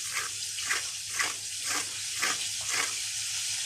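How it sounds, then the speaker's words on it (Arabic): Fried fish crackling and sizzling in a pan, a steady broadband hiss with a few soft crackle bursts recurring about every half second, close and moderately loud, no voices. "سامعين قرمشه السمكه؟ مستويه بقى من جوه ومقرمشه من بره."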